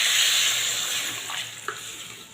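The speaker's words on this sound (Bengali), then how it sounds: "এবারে দিয়ে দিচ্ছি জল।" Water pours into a hot kadai of well-browned chicken curry with onion greens, a loud hiss and splash at first that settles into softer sizzling and bubbling, with a small clink near the end.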